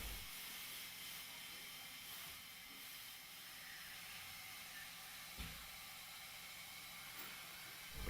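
Hot-air welding rod being run along the first half of a logo inlay in a vinyl floor, a steady soft hiss of the welding gun held throughout with a faint bump midway.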